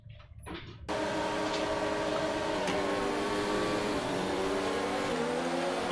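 Racing cars in a video game race roar off the start, a sudden loud sustained engine drone after a short quiet moment, steady to the end with shifting pitch.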